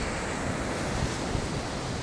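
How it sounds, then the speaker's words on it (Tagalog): Sea waves wash steadily onto the shore near the windmills of Burgos, Ilocos Norte, a broad continuous roar of surf mixed with wind buffeting the microphone, with no talking. "Dito, dagat."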